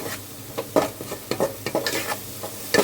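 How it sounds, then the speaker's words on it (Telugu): Masala paste with chili powder and rock salt fries for a Seelavathi fish curry, sizzling steadily while a spoon scrapes and stirs the pan in a string of short, close strokes. "కారం, ఉప్పు వేసాం కదా, మరి కొంచెం వేగనిద్దాం"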